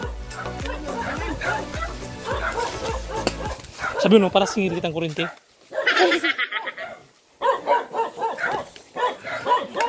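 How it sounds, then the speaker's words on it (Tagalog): Dogs bark and yip repeatedly at close range, overlapping with people talking and a bit of laughter throughout. "Ang daming aso."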